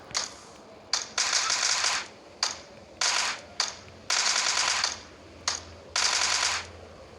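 Automatic gunfire in the mobile battle royale PUBG Mobile on the Erangel map comes in repeated rapid bursts, about six sharp volleys separated by brief pauses, loud and crisp with no talk over them.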